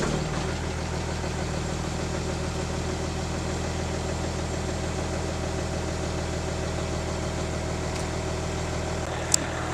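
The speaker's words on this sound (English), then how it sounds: "so now we're going to get this truck started up" A farm truck engine runs at a steady idle, a continuous close rumble with a faint vibrating hum and no talk over it; no distinct start-up crank is heard.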